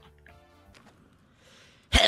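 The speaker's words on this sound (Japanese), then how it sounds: "ごめんなさい、くしゃみ出ちゃいました。" One sharp, loud sneeze bursts out at the very end, after a stretch of quiet, faint background sound.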